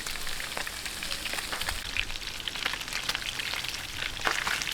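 Bangus (milkfish) sizzles and crackles in hot oil in a frying pan, a steady close hiss with scattered pops and spatters continuing throughout, no voices.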